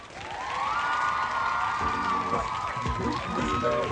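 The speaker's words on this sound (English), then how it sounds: "Give her a nice round of applause, guys" A game-show audience breaks into clapping and cheering, loud and continuous, with whoops and raised voices shouting over the applause throughout.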